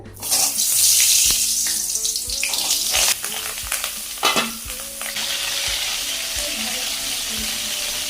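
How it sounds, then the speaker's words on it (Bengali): Pointed gourd frying in hot oil until browned sends up a loud, steady sizzle, broken by clattering stirring and scraping in the pan. "পটলগুলোকে এভাবে লাল লাল করে ভেজে নিয়েছি"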